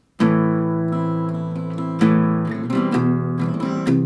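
Bright strummed chords on an acoustic guitar ring out close and clear, with several firm strums spaced a second or so apart.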